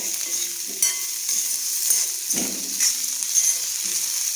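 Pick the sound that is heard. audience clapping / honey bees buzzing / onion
onion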